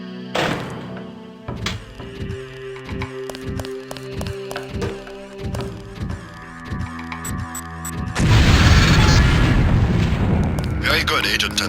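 A LAM explosive from the Deus Ex training level detonates after ticking and beeping game tones, a loud broadband blast swelling late and rumbling on to the end under a faint game backdrop.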